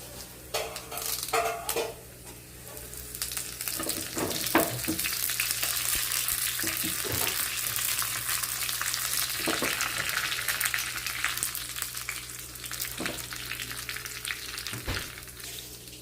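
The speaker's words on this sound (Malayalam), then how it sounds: "നമുക്ക് ഉണക്കമുളകും കറിവേപ്പിലയും ചേർത്ത് കൊടുക്കാം." Dried red chillies and curry leaves hit hot oil with browned onions, setting off a steady, close crackling sizzle broken by several sharp spatula clinks and scrapes against the pan; no talking.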